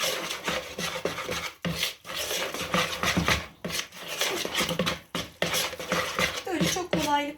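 A spoon stirs flour and water in a bowl for unleavened lavash dough, giving steady scraping, rasping strokes against the bowl with short pauses between them. A voice speaks faintly underneath.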